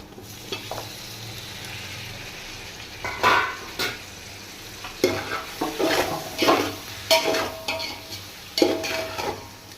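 Tomatoes go into sautéed onions in a pan for roasted biryani, giving a steady close sizzle broken by louder bursts of stirring and spoon scrapes against the pan over the second half.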